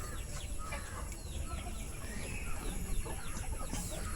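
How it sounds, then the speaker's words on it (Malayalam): Native chickens in a rooftop terrace shed, clucking softly and repeatedly in a faint, steady scatter of calls with no talking. "ഒരു നാടൻ കോഴിയുടെ ഒരു ഷെഡ് ഉണ്ട്"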